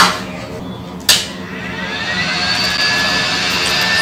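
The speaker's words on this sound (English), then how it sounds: "I'll put my blower at 330 degrees." A hot air blower set to 330 degrees, used for short-circuit repair on a tablet circuit board, gives a steady loud whooshing roar after a sharp click near the start, close by with no talk.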